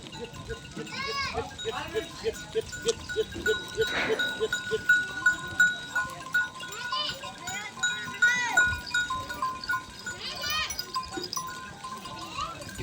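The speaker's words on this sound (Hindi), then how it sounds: "शाम का टाइम और ये बकरियां अपने अपने घरों में वापस आती हुई।" A herd of goats returning home at evening in a village, bleats repeating near and far among bells and bustle, with people talking throughout.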